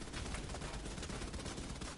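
Automated turret gunfire in The Division 2, a dense, continuous rattle of rapid shots filling the whole moment at steady loudness, with no talk over it.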